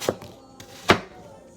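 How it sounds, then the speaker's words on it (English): Fresh orchard apples, peeled, are sliced with a knife for pie: a few sharp chops on a cutting board at uneven intervals, the loudest near the end, with no voices. "I like to just peel them, cut them like this, probably like 1/4 inch thick"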